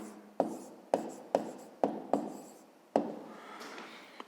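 A pen or chalk writes an answer during a fifth-grade maths exercise, six or seven sharp taps and short scratching strokes, close and distinct, with a longer scribble near the end.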